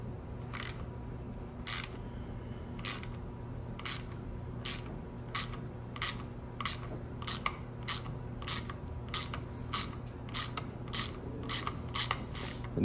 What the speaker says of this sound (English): we're gonna use an 8mm socket here to take these out.